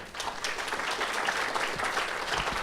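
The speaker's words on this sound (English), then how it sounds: "Please give them a round of applause." A crowd applauds after a speech, a brief steady patter of many hands clapping at moderate volume.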